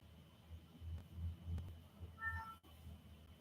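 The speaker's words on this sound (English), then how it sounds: "Did you hear my kitty?" A faint, short cat meow sounds briefly over a low, steady hum in a quiet room.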